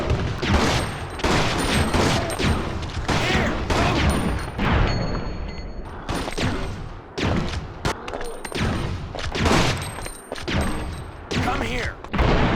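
Rapid bursts of weapon fire from Resident Evil Outbreak, fired from a characters' aiming stance, repeat loudly across the whole stretch in dense volleys, with only brief gaps between them.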